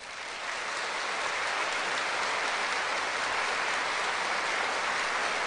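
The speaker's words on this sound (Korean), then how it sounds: "나오실 때 우리 모두 다 박수로 맞이하겠습니다" A church congregation at a revival service applauds a guest pastor: dense, sustained clapping from a large crowd, even and unbroken, somewhat distant, with no voices standing out.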